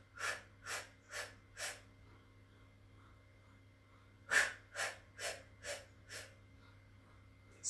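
Rhythmic breathing during a Pilates class, a run of audible breaths in an even pulse, then a brief pause and a second series of breaths, close but soft, with no talking.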